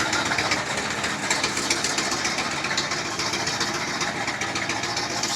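A Chevy car engine idles steadily after a wreck, a continuous mid-pitched rumble with slight knocking irregularity, close and unbroken with no clear speech.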